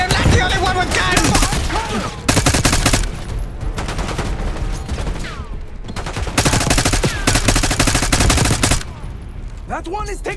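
Heavy gunfire in Call of Duty Black Ops 6, loud repeated automatic bursts and volleys crowding the whole stretch, with shouted voices over the shooting.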